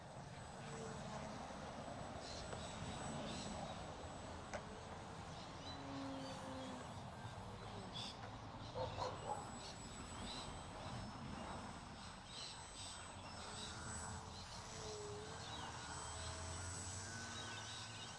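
Small radio-controlled aircraft with aggressive control throws holding a hover in the open air, a steady motor and propeller whine fluctuating with small throttle changes, continuous at moderate distance with faint birds in the background.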